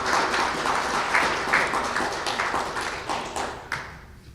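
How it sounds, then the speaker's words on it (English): An audience applauds at a formal ceremony at a veterinary medicine school in St. Kitts and Nevis, a steady patter of individual claps that gradually thins out and fades toward the end. "Let's give them a round of applause."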